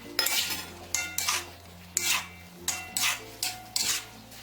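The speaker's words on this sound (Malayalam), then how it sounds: "ഇനി ഇതിലേക്ക് നമ്മൾ ഈ ഫ്രൈ ചെയ്ത് വെച്ചിരിക്കുന്ന കോളിഫ്ലവർ ഇട്ടിട്ട് മിക്സ് ചെയ്ത് കൊടുക്കാം" Fried cauliflower being mixed in a pan: about seven bursts of scraping and clinking as a utensil stirs against the metal, each lasting under a second and coming in a steady rhythm over a low background hum.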